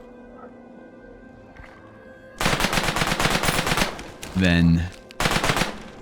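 Rapid bursts of repeater gunfire in the video game Falsepine, loud, close, dense volleys broken by a short pause and a brief tonal game sound, with a single spoken word.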